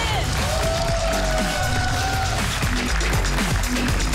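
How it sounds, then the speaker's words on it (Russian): A studio audience claps and cheers in a dense, continuous burst, loud and close throughout. A whistle-like tone sounds early, and voices call out beneath the clapping. "Аплодисменты!"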